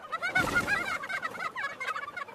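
Chickens cluck in an animated farm story, a busy flock chattering nonstop, with overlapping calls rising and falling close by.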